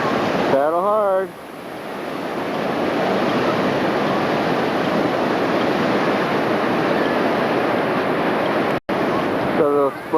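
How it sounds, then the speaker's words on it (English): Water splashes and churns steadily as rafters on a river fling water at each other during a splash war at a 1993 family reunion, a loud continuous wash with voices calling briefly at the start and end. "So a little splash war going on."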